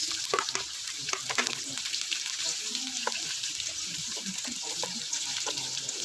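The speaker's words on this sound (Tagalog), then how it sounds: "Magigisa lang tayo ng ating bawang sibuyas." Garlic and onion sauté in hot oil for pancit, a close sizzle broken by scraping stir strokes and clinks of a utensil, with some faint background speech.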